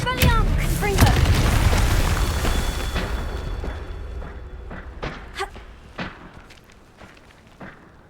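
In Hogwarts Legacy, a Confringo blasting spell lands with a heavy booming explosion early on, followed by rumbling debris, thuds and scattered sharp impacts fading over several seconds.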